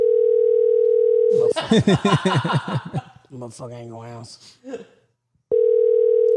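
A phone's ringback tone on an outgoing call sounds as a steady tone, breaks off while a man swears and others chuckle over it, then resumes alone at the end.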